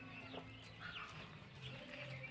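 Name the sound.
hen clucking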